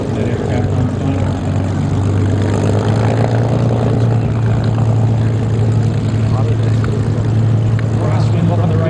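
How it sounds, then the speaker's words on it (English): An Avro Lancaster bomber flies overhead, its propeller engines making a loud, steady, deep droning roar that holds throughout, with voices faintly mixed in. "One of only 2 Lancasters flying in the world today."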